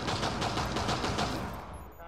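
Rapid bursts of automatic gunfire from several shooters in a Rainbow Six Siege match, loud and continuous, trailing off near the end.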